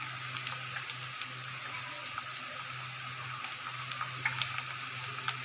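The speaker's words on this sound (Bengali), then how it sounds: "এখন রসুনটা একটু ভাজা নিব" Garlic and ginger paste frying with browned onions for spiced mutton liver, a steady close sizzle with scattered small crackles and pops, no voices over it.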